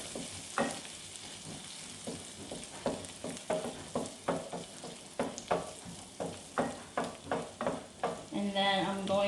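Garlic fries in a pan over medium heat, the sizzle broken by a quick run of sharp scraping stirs. It sounds close and moderately loud, with no talking.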